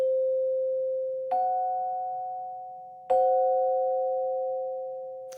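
Two sustained electronic tones a diminished fifth apart, the lower pitch sounding first and the upper entering after about a second, the pair struck again midway and ringing steadily, clean and alone without talk.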